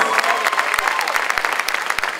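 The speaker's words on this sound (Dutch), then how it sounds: "Dames en heren, met een applaus voor beide vechters." Crowd applauding both fighters after a Muay Thai bout at the 2018 Panamerican Muay Thai Championship in Paramaribo, a loud, steady burst of clapping with sharp individual claps standing out.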